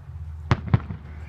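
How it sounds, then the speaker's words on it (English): Backyard fireworks bursting, two sharp close pops in quick succession over a faint low background hum, standing alone without talk. "There's Barry, didn't see the fireworks"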